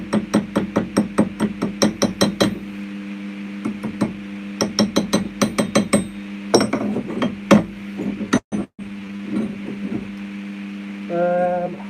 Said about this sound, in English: As soon as I lift up to tap my slag off, my eyes are protected.